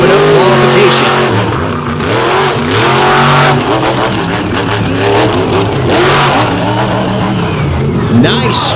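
Race truck at a drag racing event making a pass, loud roaring engine with shifting revs and tire noise, close and continuous, with an announcer talking over it.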